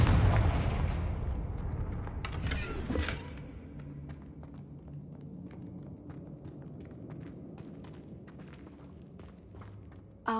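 Confringo fire-blast spell explosion in Hogwarts Legacy, a loud booming burst at the start with a second blast soon after, then a long fading rumble with faint scattered clicks and debris.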